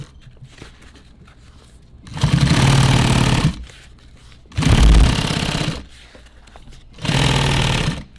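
A sewing machine stitches a wrapped nylon EDC belt in three loud, rapid buzzing bursts of about one to one and a half seconds each, separated by short pauses of quiet handling.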